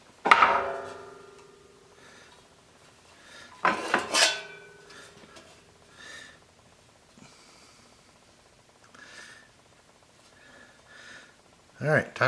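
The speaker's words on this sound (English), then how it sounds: "time for a little tappy tap tap and a little manual bending" Metal tooling parts for an R8 collet and tooling holder are tapped and bent by hand. A few sharp metallic clinks and knocks come at the start, around the middle and at the end, with quieter handling noises between.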